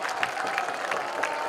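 A minor-league baseball stadium crowd at a Missoula Paddleheads game cheering and applauding, a continuous broad roar of many voices and clapping heard from a distance.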